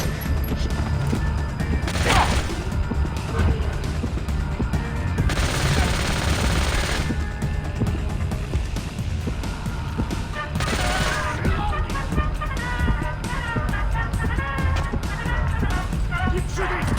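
Gunfire crackles through a co-op firefight in Splinter Cell: Conviction, with loud bursts and volleys over a constant din of game action and shouted character voices.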